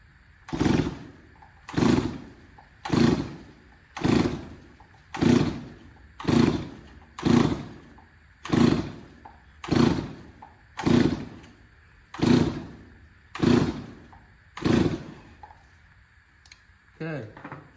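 A Stihl 024 Wood Boss chainsaw is pulled over on choke after piston and cylinder work, about a dozen evenly spaced rasping pull-cord strokes with brief sputters, loud and close, without catching into a steady run.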